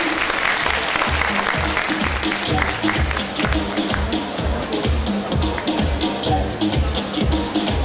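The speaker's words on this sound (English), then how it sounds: "a very big round of applause for Miss Lynette Fu" An audience gives a speaker a big round of applause, loud sustained clapping with a steady rhythmic thump of music or stomping pulsing beneath it and a few voices faintly mixed in.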